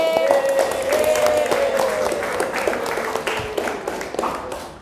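Students in a classroom clap together, a steady patter of many hands lasting several seconds at moderate loudness, gradually thinning toward the end.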